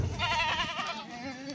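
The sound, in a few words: Kathiyawadi goat bleating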